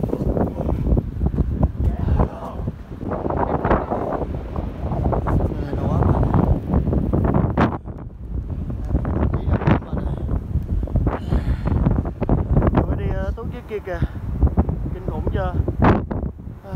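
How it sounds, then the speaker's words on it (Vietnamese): Strong coastal wind roars and buffets the microphone nonstop at Tunnel Beach, New Zealand, loud and gusty throughout, while people talk under the noise. "Gió ờ, gió ù ù luôn á."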